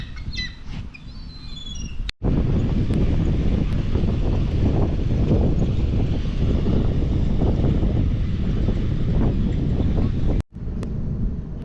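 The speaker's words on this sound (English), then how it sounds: "The wind is going this way, it's being blocked by that building." Strong wind blowing outdoors beside a building, a loud continuous rumbling roar battering the microphone with no pause, briefly cut off near the start and near the end; no speech.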